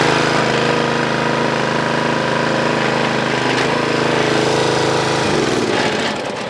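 Predator 20 ton log splitter engine running at a steady, loud, close drone with a hard rattle, then falling away near the end.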